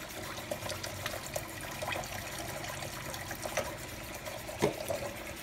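Tap water running steadily into a sink or basin, filled with lukewarm water and a splash of neutral soap for washing a carton's worth of eggs; a continuous close gush with small splashes, no talking.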